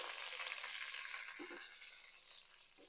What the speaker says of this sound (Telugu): ఇదిగోండి, సాజీర అది బాగా వేగుతుంది కదా చూడండి